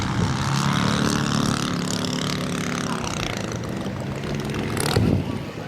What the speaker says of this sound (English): That sounds funny. Weird sounding motor.